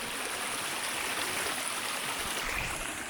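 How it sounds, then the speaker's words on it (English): A small waterfall in a Mongolian canyon, a steady broadband rush of falling water that is continuous and fairly close, with no voices over it. "Here is actually the waterfall."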